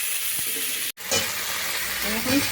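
Potatoes frying in hot oil with green chillies and spices, a steady close sizzle with stirring scrapes and a brief gap partway through.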